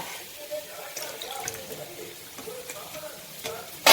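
Eggplant dropping into hot oil while cooking prawn curry, soft crackling sizzle with scattered stirring clatter and utensil knocks, intermittent and fairly close.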